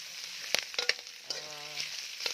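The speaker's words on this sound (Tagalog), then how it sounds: "Halu-haluin natin guys, ha." Relyenong bangus filling of ground meat is stirred in a frying pan, with a steady sizzle of oil and a few sharp scraping clinks of a spoon against the pan.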